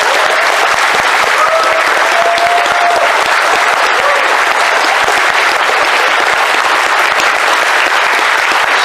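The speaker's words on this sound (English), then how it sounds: "Give her a round of applause." A convention crowd applauds a guest on stage, a loud, dense, continuous wash of clapping that holds steady from start to finish.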